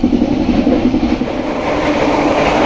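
Bengawan passenger train running on rails, heard from inside as a loud, steady rumble with rhythmic clatter from the wheels and a constant roar of motion, with no voices.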